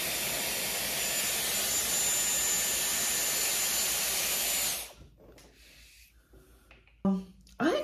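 A Dyson Airwrap hair styler blows a steady, loud whooshing rush of air while curling hair, then cuts off abruptly partway through, leaving quiet handling noises and a couple of brief bumps.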